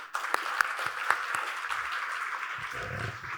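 An audience at a business and policy forum session on women's roles gives a round of applause, moderate clapping with a few distinct sharp claps early on that thins and fades toward the end, fairly quiet overall.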